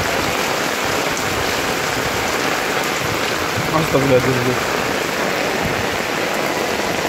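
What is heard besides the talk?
first heavy rain in Ambulu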